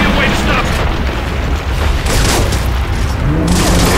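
Gunfire aimed at the Corpser boss in Gears of War, loud and sustained rapid shots blending into a thick roaring barrage with heavy booming underneath, while voices talk over it.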